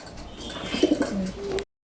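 Pigeons kept in a backyard loft coo softly, a few low rolling coos standing out against quiet surrounding noise before the sound cuts off.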